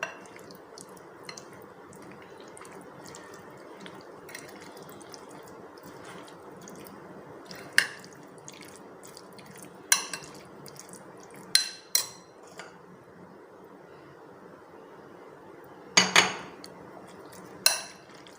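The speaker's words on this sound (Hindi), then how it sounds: "इमली और आलू बुखारे की चटनी डालते हैं। मिक्स करते हैं।" A spoon mixes tamarind and plum chutney into chana chaat in a bowl, giving quiet wet squishing with scattered clinks of metal against the dish, including a few sharper knocks spaced several seconds apart.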